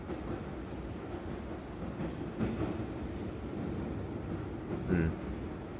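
Train ride in the video game A Taste of the Past: a steady, continuous rumbling carriage drone with faint rhythmic clatter and a couple of slightly louder bumps, heard alone at moderate level.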